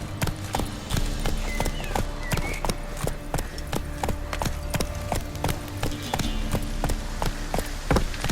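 Geralt's horse Roach galloping in The Witcher 3: Wild Hunt, steady rhythmic hoofbeats clattering close by throughout, over a low ambient game soundscape, no talking.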